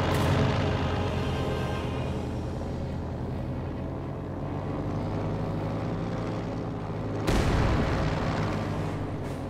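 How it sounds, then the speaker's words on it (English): A strategy-game Katyusha rocket barrage lands as a dense, roaring rumble of blasts that holds steady, then a fresh loud burst cuts in near the end, heavy and close with no voices. "Katusha arriving here for Captain Obvious"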